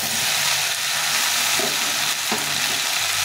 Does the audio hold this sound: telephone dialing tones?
no